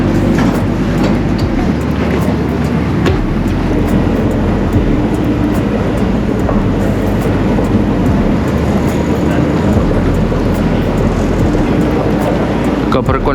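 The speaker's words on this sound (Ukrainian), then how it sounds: "Така прикольна станція метро." Bangkok metro train at the station, a steady broadband rumble and whoosh filling the whole stretch, with some faint voices mixed in.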